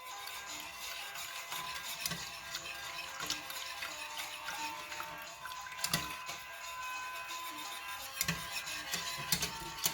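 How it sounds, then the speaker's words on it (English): A whisk works through a hot chocolate mixture in a saucepan, giving a steady run of soft, fast scraping and ticking strokes at moderate distance with no voices. "Whisk to combine, and we'll wait for this to heat up."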